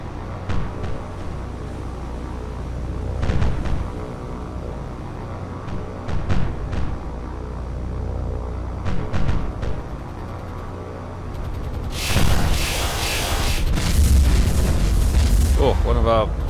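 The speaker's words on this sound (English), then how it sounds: "Anti-aircraft fire coming up." Anti-aircraft fire in the naval video game War on the Sea, scattered thuds and pops building into a loud, continuous roar of explosions near the end, with someone talking over parts of it.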